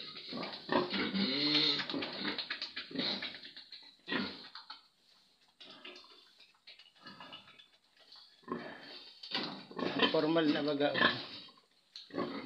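A breeder pig grunts and oinks repeatedly in a farm pen, loud and close, with bursts of squealing grunts separated by pauses, while people talk nearby.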